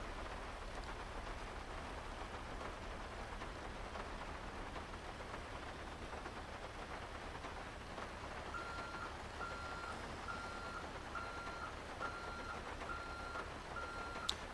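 Reversing beeps from a heavy-duty wrecker tow truck backing up in GTA 5, a faint, steady repeating tone heard under constant rainfall.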